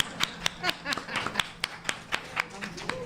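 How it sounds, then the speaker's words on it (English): Scattered, uneven claps from a small school board forum audience: about a dozen sharp, separate hand claps spread over a few seconds, moderately loud, with some talking underneath. "That's all I get is one clap?"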